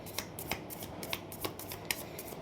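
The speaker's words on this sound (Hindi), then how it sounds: "जब तक मैं कार्ड शफल करती हूँ" Tarot cards being shuffled by hand: quick, soft riffling flicks in a fairly regular rhythm, close and quiet, with no talking.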